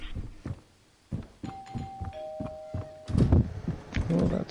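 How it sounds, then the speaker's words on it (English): A doorbell rings inside a video game, a pair of clear electronic chime tones sounding over footstep-like thuds and shuffling, then followed by busier clattering noise. "Someone just rang the doorbell."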